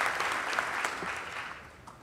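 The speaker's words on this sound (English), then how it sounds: "Please give them another round of applause." An audience at a Greensburg Salem High School academic awards ceremony claps for students with perfect grades, a dense wash of applause that gradually thins and fades toward the end.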